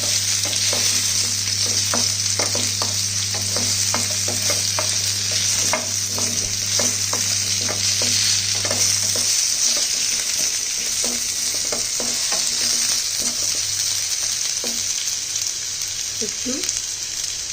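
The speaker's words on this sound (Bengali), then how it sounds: "নাড়াচাড়া করে 3-4 মিনিট এগুলোকে একটু ভেজে নেব।" Mango pieces fry in a pan, stirred steadily so the spatula scrapes and taps in a regular rhythm over a loud, constant sizzle. A low steady hum sits beneath the first half, then drops away.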